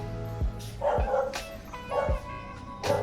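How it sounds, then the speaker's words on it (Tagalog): Several dogs bark in short bursts at moderate distance, three or four distinct barks across a few seconds over a steady background hum, no talking. "Daming aso."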